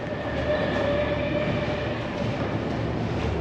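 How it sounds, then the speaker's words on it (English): A Moscow metro train runs underground with a constant loud rumble and steady wheel noise, a faint whine holding through the short ride. "I think we're going to get on the metro"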